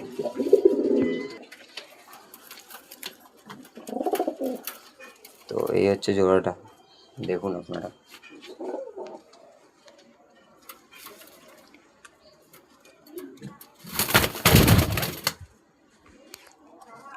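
Kolkata bloodline pigeons, a pair, give soft throaty coos in short separate bouts close by, between someone talking and some rustling and a loud flutter of wings near the end.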